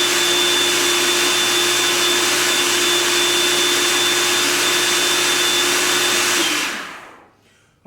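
A food processor runs continuously on bread dough ingredients, a loud steady whirring motor drone for several seconds that then winds down and stops.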